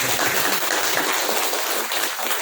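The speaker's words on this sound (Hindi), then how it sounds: "इनका ताली बजा करके स्वागत करो" A crowded Hindi family-counselling gathering breaks into steady, dense applause welcoming guests, many hands clapping loudly and evenly throughout with no voices over it.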